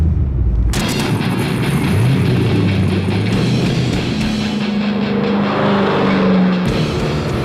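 A loud, continuous engine roar from a 2008 Corvette Z06 on a track, with a sustained rising rev and a sudden surge early on.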